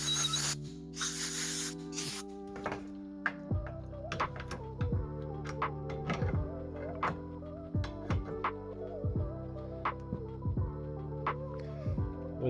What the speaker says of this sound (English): I use a bit of compressed air to blow them out